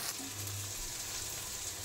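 Maggi noodles fry in a pan with a soft, steady sizzle, a low continuous hiss that stays even throughout, with no voices.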